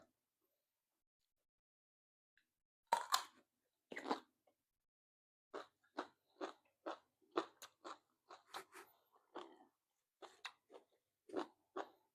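Crisp, crunchy chewing of a Thai mushroom salad (yam het khon), with two louder bites followed by a steady run of about a dozen close, evenly spaced crunches in an otherwise quiet room.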